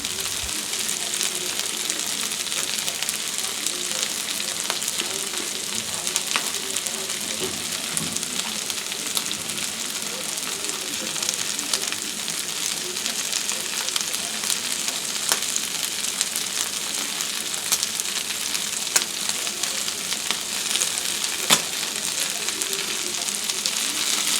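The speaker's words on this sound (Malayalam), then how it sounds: "ഇപ്പോൾ നമ്മൾ കൂന്തൽ ഫ്രൈ ചെയ്ത് തുടങ്ങിയിട്ട് ആകെ ടോട്ടൽ ഒരു രണ്ട് മിനിറ്റ് ആയിട്ടുണ്ട്" Squid pieces frying in hot oil in a pan with curry leaves and sliced green chillies added, giving a steady, dense sizzle that runs unbroken and fairly loud throughout, with faint stirring clicks and no talk.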